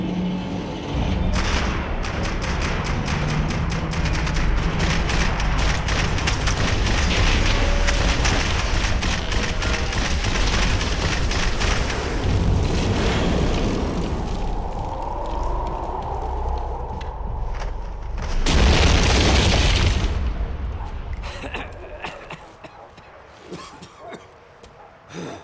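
Max Payne 3 gunfight with dense, continuous gunfire and booming blasts, loud and close, building to a heavy burst near the end before tailing off.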